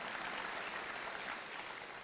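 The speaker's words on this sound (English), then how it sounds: "let's give them another round of applause" At a 2020 high school spring graduation ceremony, a crowd applauds administrators, faculty and staff with a brief, even wash of soft, distant clapping.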